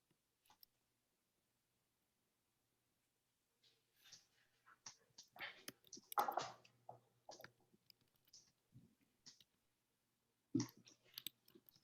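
Scattered keyboard typing by people in a meeting room, irregular clicking taps in quiet bursts that grow busier midway, faint and close, with long near-silent gaps.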